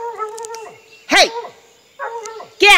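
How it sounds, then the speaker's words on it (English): A dog whines and yelps in short, pitched bursts from inside a shed, with a couple of sharper barks in between, close and loud. "it sounds like a dog"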